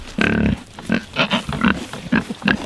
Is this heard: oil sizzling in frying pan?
no